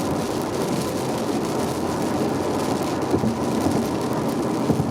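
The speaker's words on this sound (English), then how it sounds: "Here goes the rain again on my way to Frankfort." Steady rain hisses and drums on a car while it drives along Interstate 64 toward Frankfort, broadband wash mixed with road rumble and continuous, fairly loud, with no one talking.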